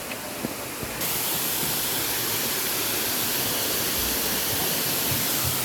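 Beaver Falls waterfall rushes with a dense, constant roar, growing louder after the first second and staying steady and close with no voices.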